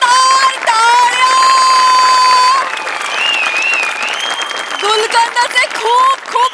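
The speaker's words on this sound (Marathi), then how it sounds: "जोरदार टाळ्या!" Loud audience applause with some cheering fills a Marathi comedy stage show, a dense steady roar of clapping that dips and then swells again, with music and voices mixed in.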